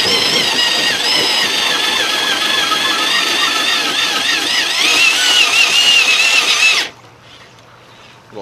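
A drill spins a tenon cutter shaving the end of a wooden piece, a loud steady whine with wavering pitch as the cutter bites, rising near the end, then stopping abruptly to near silence.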